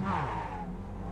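A Mazda MX5 engine in the iRacing game revs high and falls briefly after a missed gear shift, a short, fairly faint burst of engine whine.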